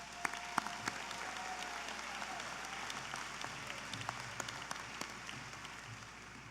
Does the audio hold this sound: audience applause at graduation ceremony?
yes